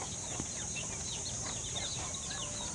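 Young Japanese Shamo chickens cluck and chirp softly on a farm in a dense, faint chatter of overlapping calls over steady background hiss, with no talking.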